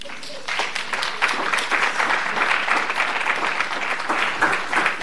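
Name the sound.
applause from students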